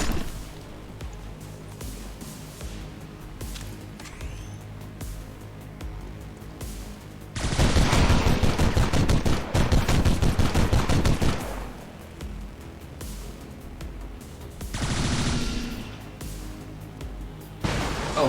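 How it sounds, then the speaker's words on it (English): XCOM 2 combat gunfire erupts in two loud sustained bursts of rapid automatic shots with crackling impacts, separated by quieter game ambience. "Oh god, he's shooting the VIP."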